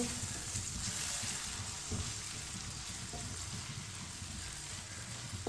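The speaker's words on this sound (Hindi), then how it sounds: "एक मिनट के लिए पका लेंगे मसालों को।" Spices cooking in a pan with salt, red chili and soy sauce, giving a steady, soft sizzle with faint stirring scrapes throughout.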